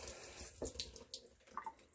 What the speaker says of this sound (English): And I'm going to rinse this egg off too.